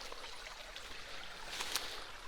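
A clean-water creek beside a rural adobe house flows with a steady, soft wash and faint trickling, moderately distant and continuous, without talk.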